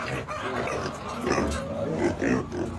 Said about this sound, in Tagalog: Kuya na ito mga baboy, ano na, oh.